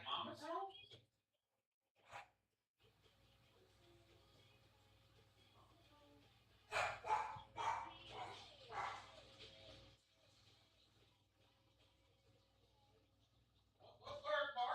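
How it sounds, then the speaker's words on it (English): A dog barking indoors during a World Cup watch party, several sharp barks in short bursts with brief gaps, close by over low household hum, with people talking in between. "What's Bert barking about?"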